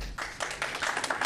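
An audience at a zoning commission hearing claps, producing a quick run of sharp, uneven hand claps from a small crowd, heard briefly and at moderate distance.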